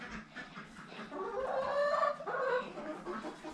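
Farm chickens cluck and squawk nearby in a flock of about two dozen, a few overlapping calls rising into a louder drawn-out squawk before settling.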